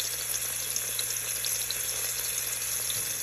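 Garlic fries in a pan, browning ahead of rice for a Cambodian chicken rice porridge: a steady, close, continuous hiss and sizzle with no speech.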